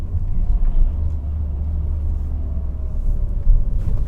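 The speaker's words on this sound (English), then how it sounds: "And yes, we are driving in the city" Low, steady road rumble comes from inside a new 2022 Mercedes Citan van driving through the port city of Hamburg, with constant engine and tyre drone and no talk.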